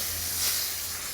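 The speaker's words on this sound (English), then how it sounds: "So we just take a few spoons of the coconut milk into the wok" Coconut milk sizzles in a hot wok, a steady close broadband hiss with a low hum underneath, no voices.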